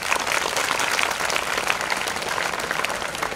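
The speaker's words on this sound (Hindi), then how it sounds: "अपने लिए ताली बजाइए पहले।" A crowd of students at an officers' career academy in Pune claps for themselves, a continuous, fairly loud burst of dense applause with steady intensity throughout.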